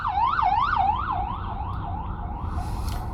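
A wailing ambulance siren sweeps up and down repeatedly, fairly close at first, then fades and softens as it moves away over traffic rumble.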